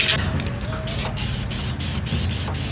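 Spray bottle pumped repeatedly, a quick series of about seven short sharp hissing spritzes in steady rhythm, close and clear over a low background.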